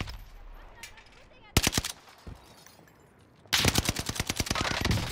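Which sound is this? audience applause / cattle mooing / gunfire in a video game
gunfire in a video game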